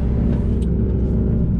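A car rumbles past close by, its engine a steady low drone that holds loud for the whole moment with no talking.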